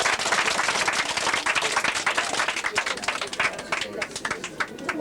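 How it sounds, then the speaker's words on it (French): Audience applause at a flea circus show, dense sustained clapping from a crowd filling the whole stretch, loud and steady with a slight swell and ripple toward the end. "On peut l'applaudir très fort."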